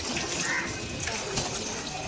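Water running steadily for washing a Tata Punch car, a constant close splashing gush with no break through the whole short stretch.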